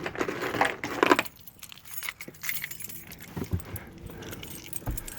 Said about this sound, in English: Grab the keys I threw over here.